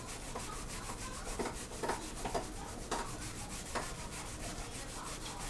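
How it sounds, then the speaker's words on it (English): Wet paper being rubbed off a wood surface during an image transfer, a steady, close scrubbing friction with short louder strokes repeating throughout. "You don't want to like rub that area too much either, because it will start pulling the ink back up."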